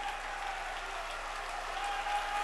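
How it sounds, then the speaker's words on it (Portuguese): A church congregation bursts into sustained applause. Dense, even clapping fills a large room and builds slightly toward the end. "dê a melhor salva de palmas que Deus já ouviu aqui na Zona Leste"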